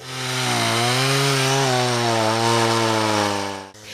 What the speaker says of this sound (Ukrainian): Ножами, серпами, плішнями та бензопилами чоловіки ріжуть сухий очерет.